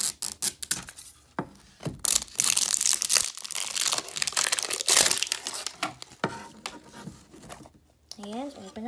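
Plastic packaging of a Scruff-A-Luv vet rescue toy is peeled and torn open, giving irregular crinkling, crackling and tearing bursts close up, with short gaps and a brief high squeak near the end.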